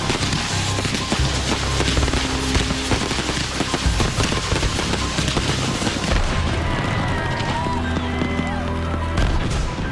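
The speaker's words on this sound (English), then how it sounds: "The first fireworks of the night launch on cue." Fireworks launching in a dense barrage, rapid pops and booms crackling continuously, loud and close, with distant crowd noise underneath.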